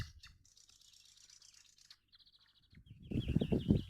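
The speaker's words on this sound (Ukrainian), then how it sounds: "Сьогодні ранок солов'їний. Так витьохкують" Nightingales singing on a spring morning, with clear repeated chirps and trills fairly near, then a louder rumbling, rustling noise close by over the final second.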